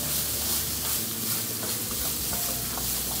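Bacon, small dedo-de-moça chili pepper and two garlic cloves fry together in a pan, making a loud, dense, continuous sizzle up close with no talking.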